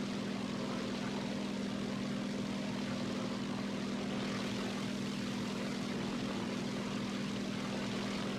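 Propeller aircraft engines in the War Thunder combat flight game, a steady loud droning hum with a constant low tone that holds unbroken throughout, no voices.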